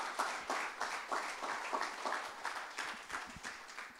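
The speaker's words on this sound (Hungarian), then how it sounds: "Adjunk egy tapsot az Úrnak." A church congregation gives a round of applause during a sermon, loose and somewhat uneven clapping at moderate distance that holds steady across the moment, with no voices on top.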